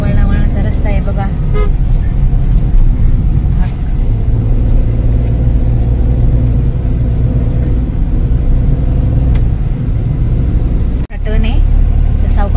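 A car climbs a winding ghat road through heavy holiday traffic, its steady engine rumble continuous and close with occasional horn toots around it, while people talk over the drive.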